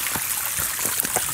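Water rushing and splashing close by as someone wades through a mountain stream in the Jourdane valley, a steady bright rush with a few sharper splashes of steps.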